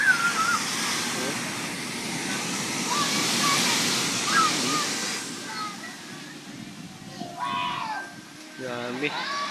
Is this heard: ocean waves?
yes